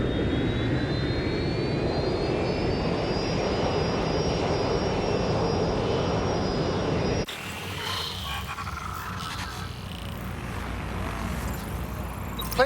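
A rerouted prisoner transport plane in the video game Watch Dogs: Legion flies with a steady, loud jet engine roar and a rising whine, then the sound cuts to a quieter, more distant engine hum.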